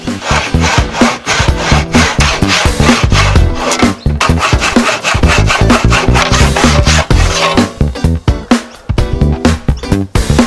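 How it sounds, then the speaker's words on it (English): A hand saw rasps steadily through wood in repeated back-and-forth strokes, loud and close, with brief pauses between bursts of cutting. "Let's grab a saw and see if that works."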